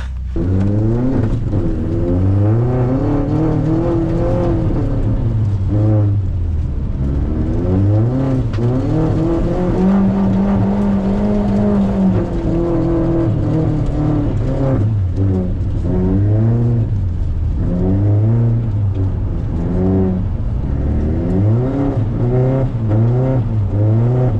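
Audi S3 quattro engine revving hard and rising and falling in pitch while drifting on an icy track, loud and continuous throughout with no talk.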